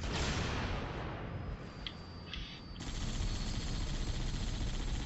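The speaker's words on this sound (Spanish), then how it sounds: "A los grandes les das unos balazos con esta y ya se mueren." Dense, continuous gunfire fills a Halo: The Master Chief Collection firefight as a rapid, roaring wash of shots that dips briefly in the middle and then surges back at full volume.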